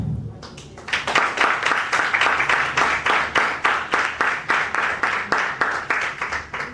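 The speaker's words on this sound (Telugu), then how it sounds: "చప్పట్లు కొట్టండి." A worship congregation claps in unison, a loud rhythmic run of about two dozen evenly spaced claps that starts after a short pause and keeps a steady beat to the end.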